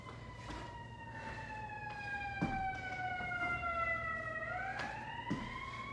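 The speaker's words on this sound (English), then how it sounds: "There's always a siren when I do my videos." A wailing siren sweeps steadily in pitch, moderately distant, over constant traffic-like background rumble.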